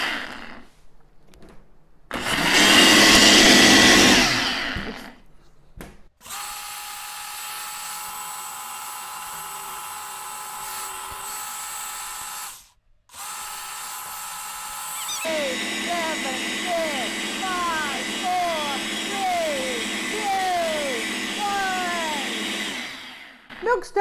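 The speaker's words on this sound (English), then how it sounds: "Oh, it's a smart blender." A smart blender running its smoothie auto program while making cashew milk, with a loud burst of whirring followed by long steady motor spells that cut off and restart. Birds chirp toward the end.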